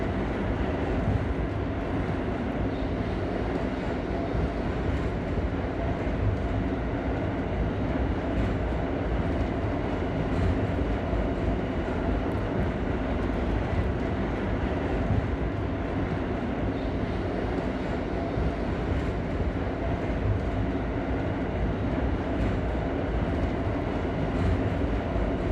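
An R32 subway car rumbles along the F line in New York, with a loud, continuous roar of wheels and motors and steady clickety-clack from the rails throughout.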